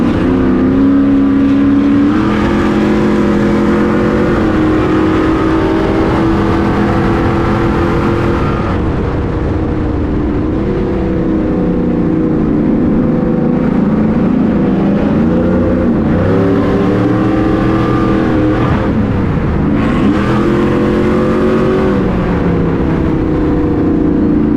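A Stadium Super Truck engine driven flat out in a race roars loudly and continuously for the whole stretch, its pitch sweeping up and down through gear changes and corners, with no voices.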